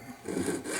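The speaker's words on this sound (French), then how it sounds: "Donc maintenant, un trait de scie, mais qui ne sera pas fait évidemment jusqu'au fond." A jeweller's saw makes a short stroke into a solid precious-metal ball held in a pin vise, giving a close, brief rasping scrape.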